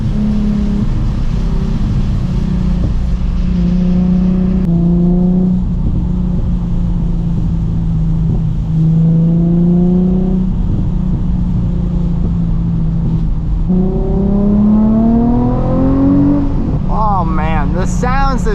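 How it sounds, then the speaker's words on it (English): A Nissan 350Z HR engine drones steadily from the cabin, climbing in pitch through several rev rises, then crackles with a quick burst of small backfire pops at the end. "Oh, the little backfires."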